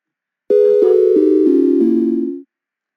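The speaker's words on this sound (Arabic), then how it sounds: "هاي صوت الجيم اوفر" A game over sound effect from a programmed video game: a loud electronic tone steps down through five descending notes over about two seconds, then stops abruptly, with no talking.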